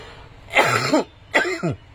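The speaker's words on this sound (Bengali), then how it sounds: "কাশি চলে এসছে" Two separate coughs from one person, close and fairly loud, the first longer and the second a quick double burst, with a short quiet gap between them and no talking.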